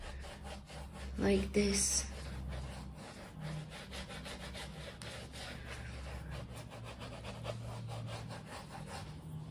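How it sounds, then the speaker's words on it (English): A makeup brush spreads acrylic paint across a 3D tape birch tree fluid art canvas, making a steady scratchy rubbing that runs throughout under a voice speaking. "Now I'm gonna use this makeup brush for like spreading it"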